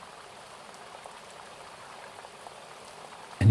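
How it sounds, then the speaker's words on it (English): Water flowing in the distance in a calm woodland setting, a soft, steady trickling and babbling hiss, faint and continuous with nothing else over it. "in the distance you start to hear the sound of flowing water"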